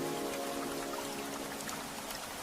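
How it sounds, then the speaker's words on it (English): Gentle rain falls steadily, a dense, even patter of drops striking surfaces close by. The sound stays constant with no other noises. "Rain fell gently now instead of violently."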